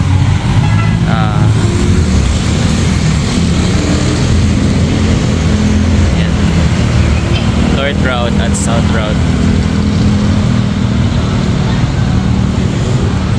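Jeepneys and other traffic rumble steadily past the busy Ayala Mall Abreeza stop on JP Laurel, with constant road noise and engine drone under someone talking nearby.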